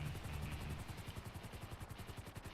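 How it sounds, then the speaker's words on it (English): Helicopter in the video game Grand Theft Auto V, its rotor thumping in a steady, rapid rhythmic chop that is fairly quiet and continuous, alone without talk. "There's a helicopter that goes on the water."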